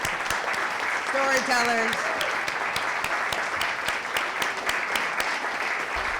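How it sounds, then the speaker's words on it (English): A storytelling event audience applauds the storytellers with steady, even clapping that fills the room at moderate distance, while a voice speaks briefly early on. "let's give them a round of applause"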